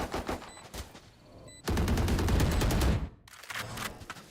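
Rapid automatic gunfire rattles out in a competitive esports match as a full magazine is emptied into an enemy, in several loud bursts with a sustained volley in the middle and brief gaps between them.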